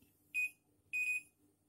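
A fingerprint door access control device rejecting an unregistered finger gives two high electronic beeps, a short one then a longer one, faint but clear over low background hum.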